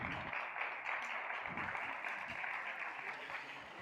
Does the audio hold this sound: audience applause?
yes